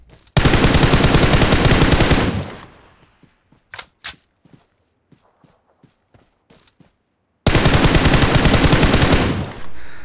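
Automatic gunfire in a battle royale mobile game: a long rapid burst, a scatter of single shots and footstep-like taps, then another sustained burst, loud and close with no talk.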